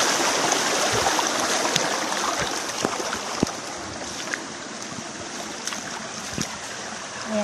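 A cold forest stream runs continuously close by, its rushing, babbling water steady throughout with scattered small splashes and knocks.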